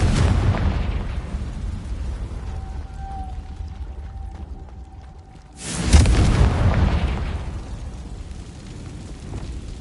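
A Confringo blasting spell detonates in Hogwarts Legacy, a loud booming game explosion with a sudden burst at mid-clip that rumbles and decays over a busy background, with no talk.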